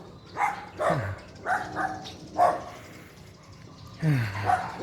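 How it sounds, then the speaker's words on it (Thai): A local dog in a village neighbourhood barks outdoors, giving five or six sharp, fairly close barks spaced about a second apart, some falling into a lower growling tail. "เจ้าถิ่นเห่า เจ้าถิ่นเห่า"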